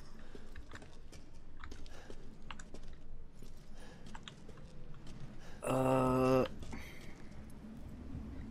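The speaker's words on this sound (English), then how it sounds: "Why do you hear chains rustling?" Chains rattle and clank in a dark castle kitchen area in Resident Evil 8, a brief, loud metallic burst of jangling that stands out over low ambient game noise.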